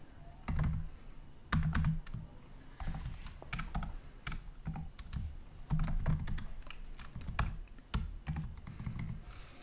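Rapid, uneven keystrokes on a computer keyboard during code writing, clustered into short bursts with brief pauses, close and moderately quiet with no talking.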